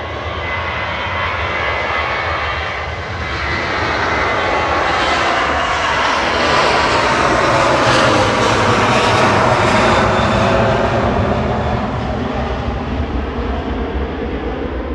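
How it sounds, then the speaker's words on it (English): A Ryanair jet departs Manchester Airport for Faro, its loud engine roar building and sustaining as it climbs away, with a rising whine on top and no speech. "Ryanair to Faro departing now"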